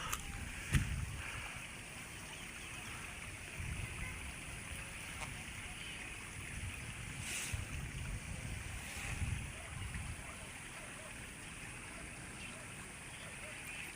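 The Angat River swollen after heavy rain from Typhoon Caring rushes along in a steady broad wash of flowing water, heard outdoors at a distance with faint voices and a few brief knocks.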